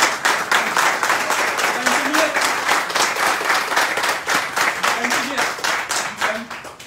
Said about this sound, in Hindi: तो सबसे पहले एक बार जोरदार तालियां आप लोगों के सामने।